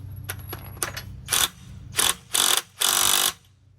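A wrench ratchets in quick bursts while snugging a 24 mm nut on the front strut of a Chevy Volt, a few light clicks giving way to longer grinding pulls, close and alone.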